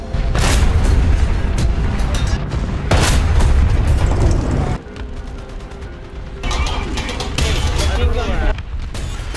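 Tank cannon fire and shell hits in War Thunder in a T-34 battle, sounding as repeated heavy booms and rumbling blasts with crackling bursts, loud and close, with a short quieter lull partway through.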